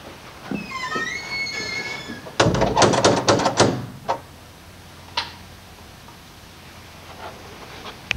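Front door at a neighbouring house being worked open, a burst of rattling, clunking latch and lock noises followed by a few isolated knocks and thuds, after some faint whistle-like tones.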